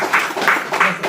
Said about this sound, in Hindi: एक जोरदार ताली चल